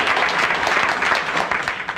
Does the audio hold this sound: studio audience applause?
yes